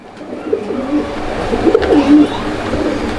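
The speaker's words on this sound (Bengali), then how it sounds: "মুন্ডিয়ানের একটা সিঙ্গেল কবুতর আমরা দেখতে পাচ্ছি" A single Mundian pigeon cooing nearby, a few soft low throaty coos rising and falling over a quiet background, with faint rustling around them.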